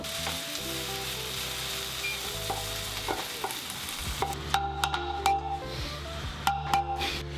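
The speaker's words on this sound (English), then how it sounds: "Keep stirring the bottom of the pan" Risotto with peas being stirred in a pan over low heat: a gentle simmering sizzle with uneven scraping and tapping of a utensil across the pan bottom, growing busier toward the end, no voices.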